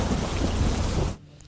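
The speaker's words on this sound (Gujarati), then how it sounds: "બપોર બાદ પવન સાથે વરસાદ શરૂ થયો." Heavy rain with wind over the Idar countryside in Sabarkantha, a dense steady roar of downpour with rumbling thunder that cuts off abruptly near the end.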